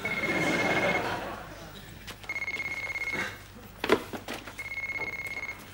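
An old landline telephone rings in a British sitcom scene, with repeated bursts of electronic trilling separated by short gaps and a muffled room background.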